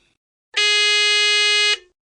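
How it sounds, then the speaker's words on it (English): A single loud, steady electronic buzz from a phone in a quiz game, with a harsh harmonic tone, sounding for just over a second and then cutting off, with silence around it. "they press any button on their phone and we'll hear a buzzer"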